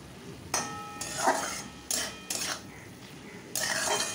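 A spoon stirs and scrapes a pan of banana stem cooked with poppy seeds and sugar, making several short, bright metallic scrapes and clinks in uneven bursts over a quiet kitchen background.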